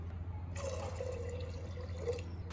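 Water poured from a cup into a pressure cooker holding soaked chickpeas, a short steady splashing fill lasting about two seconds.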